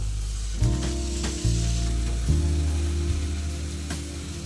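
Chili powder sizzles and fries in hot oil in a pan just before spinach goes in for a palak gravy, a steady loud crackling hiss with a few stirring scrapes, no voices.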